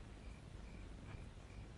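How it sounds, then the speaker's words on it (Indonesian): A pleret beetle near a horse stable gives faint, evenly spaced high chirping pulses over a steady soft background hiss, with no voices. "Itu suara kumbang pleret."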